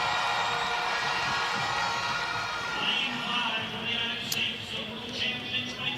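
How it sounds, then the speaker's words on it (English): A large Jamaican stadium crowd cheers for athlete Rochelle Clayton at a women's 400m race, a broad, steady roar of distant voices with a few shrill whistles and swells rising over it. "Well, Clayton got a great cheer."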